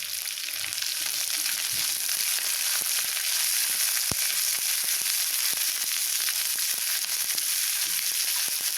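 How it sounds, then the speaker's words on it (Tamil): Chopped onions and two green chillies fry in a hot pan for an Indian ivy gourd masala curry, giving a steady, close, loud sizzle with faint scattered crackles and no talking. "இப்போது நம்ம கட் பண்ணி வச்ச வெங்காயத்தை சேர்த்திடலாம்"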